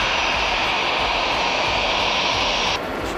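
Steady, loud roar and whine of a Tupolev Tu-214 long-haul airliner's engines, continuous and close, dropping slightly near the end.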